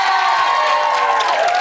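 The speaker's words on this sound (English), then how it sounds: "Give her a round of" A television studio audience roars with sustained cheering and applause, loud and close, with whoops rising over the clapping for the whole short burst.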